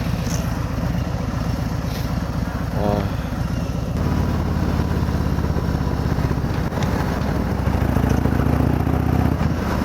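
A Harley-Davidson Road King with an S&S muffler rumbles steadily close by, its deep engine note rising and falling slightly while riding along a road, heard alone with no talk.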